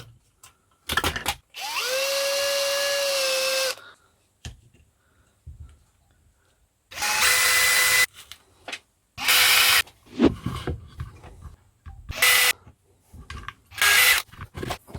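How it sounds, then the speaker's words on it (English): A power drill whirs steadily for about two seconds, drilling a hole in styrene, its pitch rising as it spins up, followed by scattered clicks and short bursts of handling noise. "I suppose the next thing I ought to do is drill a hole in it"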